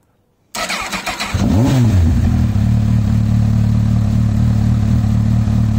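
Honda CBF1000 motorcycle engine cranks briefly with a rising whine, catches, then settles into a loud, steady close idle with no talking.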